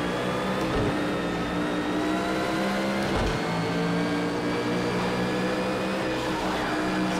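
Engine of a Mercedes GT1 race car in Project Cars 2 at Donington Park, a loud steady high-revving drone holding near-constant pitch with brief dips at gear changes, close and continuous without talk.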